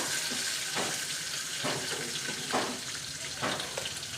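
Nalleru (veld grape) pieces frying in a pan for chutney make a continuous hissing sizzle, with rhythmic scraping bursts of stirring about once a second.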